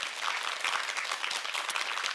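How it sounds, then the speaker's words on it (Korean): An audience at a lecture claps in a dense, even burst of applause that fills the moment without voices on top. "박수 한번 보내주세요"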